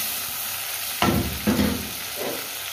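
Cubed tomatoes and spices hit hot oil in a pan, each addition bringing a loud burst of sizzling over a steady background hiss of frying, with two sharp surges close together and a softer one after.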